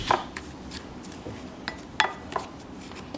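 Bath bomb ingredients being stirred in a bowl, a string of scattered clinks and scrapes of a utensil against the dish, some sharp, close-up taps standing out over a quiet background.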